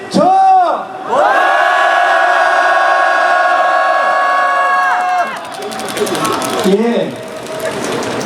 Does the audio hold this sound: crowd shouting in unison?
yes